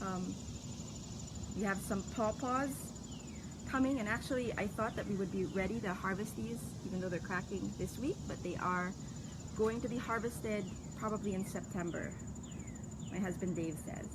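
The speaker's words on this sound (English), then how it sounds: "All a buzz here. You can hear the cicadas in the background" Cicadas in a garden on an early summer morning drone in a steady, continuous high buzz behind someone talking throughout.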